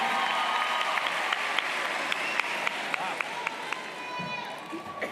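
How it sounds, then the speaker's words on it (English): A high school graduation audience applauds the salutatorian, a broad steady wash of crowd clapping with a few sharper individual claps standing out near the microphone. "Let's also clap it up for Emmanuel Cinque."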